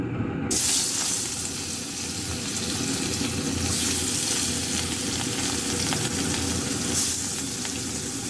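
Fish frying in hot oil in a pan, a loud, steady sizzle and crackle that continues without pause, close by.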